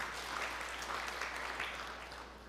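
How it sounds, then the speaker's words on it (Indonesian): Applause for God during a church service: a dense, steady wash of many hands clapping, moderately loud and continuous, tapering slightly toward the end. "Berikan tepuk tangan yang meriah buat Tuhan"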